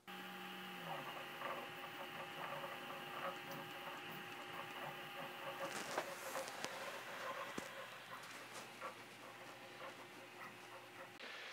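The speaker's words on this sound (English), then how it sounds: "let's check the sound on this printer again" A Prusa 3D printer runs after its linear bearings have been repacked, giving a steady mechanical hum with faint whining motor tones and light clicks, close and fairly quiet.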